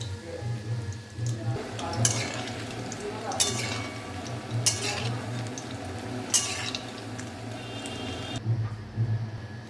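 Raw banana kofta balls fry in oil in a kadai, a steady bubbling sizzle with a low hum beneath and a few sharper spatula clinks, close and moderately loud.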